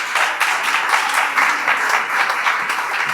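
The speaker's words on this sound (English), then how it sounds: "big round of applause for the two candidates on stage" Sustained audience applause at a candidate forum for county district attorney and district court judge races, a dense steady wash of many hands clapping with no voices over it.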